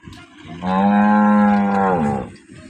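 A local Banaskantha cow, one of a group of pregnant cattle, gives a single loud, sustained moo close by, about one and a half seconds long, with quiet surroundings before and after.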